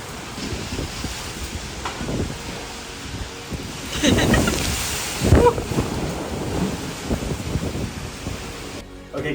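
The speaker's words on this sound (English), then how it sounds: "it is literally pouring down" Heavy rain pours down in a sudden storm on a rooftop in Buenos Aires during an asado, a dense continuous hiss with gusts of wind and a low rumble of thunder building in the middle.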